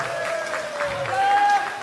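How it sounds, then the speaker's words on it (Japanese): Fans applaud at a 2016 NOAH professional wrestling event in Japan, a continuous wash of clapping from a crowd with a voice or tone ringing over it. "さあ新しいチャンピオン杉浦隆にもう一度拍手だ"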